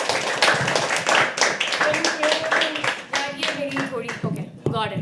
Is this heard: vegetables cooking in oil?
no